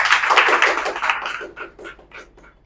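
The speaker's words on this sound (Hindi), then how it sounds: "उनके लिए जोरदार ताली हो जाए।" An audience at a business event bursts into loud applause that starts as a thick, even roar of hands, then tapers into a few scattered, distinct claps before dying out.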